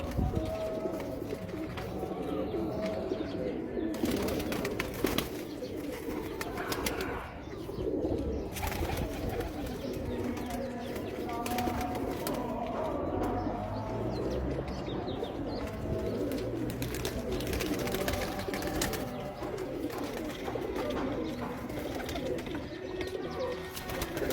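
Breeder pigeons in a loft coo continuously, a dense, overlapping chorus of throaty murmurs with scattered clicks and rustles, steady throughout at close range.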